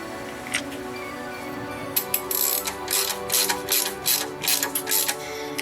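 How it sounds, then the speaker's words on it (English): Ratchet tightening bolts on a manual gearbox, with quick runs of sharp ratcheting clicks in repeated bursts, close up and alone over a faint background hum. "I'm tightening them in the best sort of star pattern I can"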